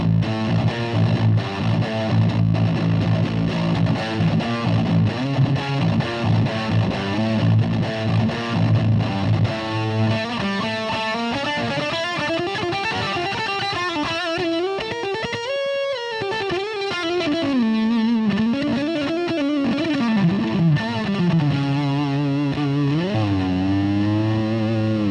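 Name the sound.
distortion pedal on drop-tuned 7-string electric guitar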